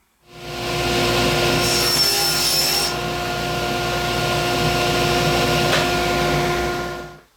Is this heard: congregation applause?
no